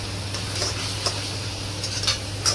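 Spice masala of red chilli, turmeric and village-style garam masala being stirred in a hot pan, a steady sizzle under a low hum, punctuated by a few sharp scrapes and clinks of a spoon against the metal.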